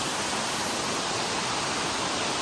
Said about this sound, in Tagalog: ito na guys, ang Imugan Falls